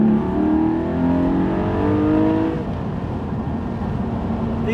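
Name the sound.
Porsche 718 Spyder sports car engine while driving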